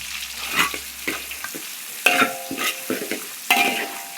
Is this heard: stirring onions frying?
yes